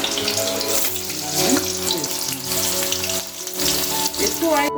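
Potatoes for an aloo fry cook in a pan, giving a continuous loud bubbling sizzle close up, with a voice and other soft vocal sounds drifting over it.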